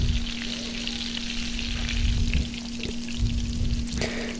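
Kebab fries in a pan with a loud, continuous crackling sizzle up close, a faint steady hum beneath it and an occasional clink near the end.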